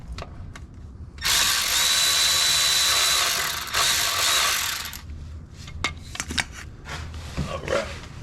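A socket wrench ratchets loudly and continuously for several seconds while loosening tight bolts during maintenance on a Ram 3500 truck, then gives way to scattered clicks and light clanks of tools nearby.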